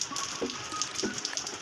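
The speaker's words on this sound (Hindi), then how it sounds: "आप साउंड सुन सकते हैं बारिश की बूंदों का, बारिश के पानी का" Steady light rain patters on surfaces nearby in Karachi in winter, a soft continuous hiss with occasional distinct drips.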